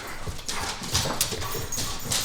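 Several dogs being looked after at home, with close scuffling, pattering paws and small whimpers and snuffles over a busy, noisy background.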